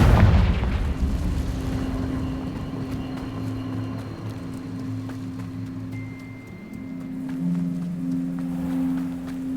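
Confringo blasting spell exploding in the Hogwarts Legacy video game, a loud boom at the start that decays into a rumbling tail, with sustained game music tones beneath.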